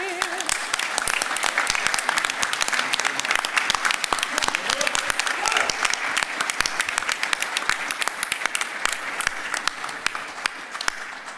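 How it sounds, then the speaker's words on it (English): An audience at a county government event applauds after the national anthem, a dense, steady round of clapping that holds for several seconds and slowly thins, with voices faintly underneath. "let's give them another big round of applause"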